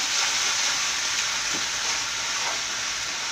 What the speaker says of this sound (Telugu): ఇది కొంచెం వేగనిద్దాం, సాసెస్ అంతా కొంచెం వేగితే బాగుంటుంది.